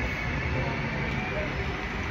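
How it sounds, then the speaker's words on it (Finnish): Train at a railway station in Amsterdam, a continuous low rumble and rolling hum at steady loudness with no voices. "Ei muuta kuin ottaa junaa."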